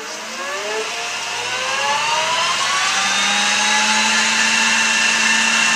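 A lathe motor spins up with its gearbox in the high range at the top speed setting, a steady close whine that climbs gradually in pitch and grows slightly louder, with no voices.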